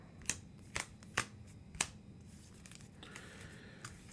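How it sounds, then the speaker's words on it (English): A deck of cards shuffled for the Earthborne Rangers board game: four quick, crisp riffle bursts close by, then quieter rustling handling over low background noise. "shuffle up the path deck"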